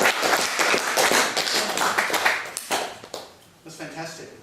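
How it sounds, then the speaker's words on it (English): A small audience claps for a few seconds, the dense applause thinning out toward the end as someone begins speaking over it. "So, round of applause again."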